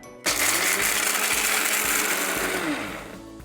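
A Bajaj mixer grinder with a military-grade jar coarsely grinds nuts in one short, loud whirring burst, starting abruptly and winding down at the end, with no one speaking.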